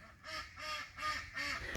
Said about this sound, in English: Speaking of ducks, there they go.